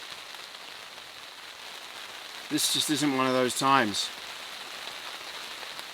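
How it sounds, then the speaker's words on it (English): Heavy rain drumming steadily on a tent during car camping, a dense continuous hiss running through the whole stretch, with a person talking briefly in the middle. "see the rain falling on the camera"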